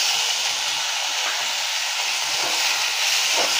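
Tomatoes hitting a hot pan with sliced green chillies, giving a steady, loud, broad sizzle that holds evenly throughout with no talk.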